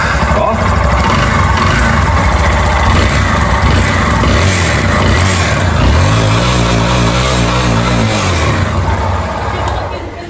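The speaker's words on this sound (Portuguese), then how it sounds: "É, realmente tem um barulho aí terrível nessa. Ó, tá batendo saia, hein?" A Yamaha Fazer 250 motorcycle engine with piston slap runs loud and close, giving a continuous rattling knock with a brief rev swell, under a voice.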